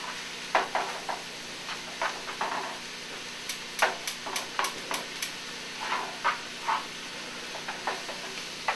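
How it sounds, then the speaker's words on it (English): Vegetables sauté in a pan for a spaghetti dish, giving a soft steady sizzle with repeated sharp clicks and scrapes of a utensil stirring against the pan, close and fairly quiet, with no talking. "Sauteed vegetables are getting there. They're almost soft."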